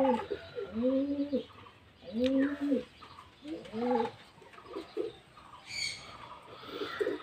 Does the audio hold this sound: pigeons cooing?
yes